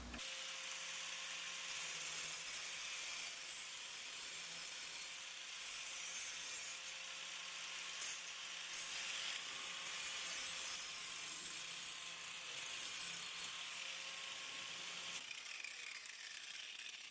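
A rotary tool with a cut-off wheel grinds steadily at close range for a funnel build, a thin high whine in short bursts with brief pauses, no talk.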